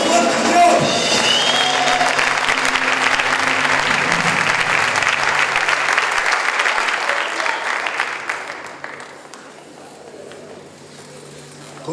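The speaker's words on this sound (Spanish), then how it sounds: "¡Dale ese aplauso fuerte a Dios!" Loud, dense applause from a congregation during a sermon fills the space, holding strong for several seconds before tapering off into quiet.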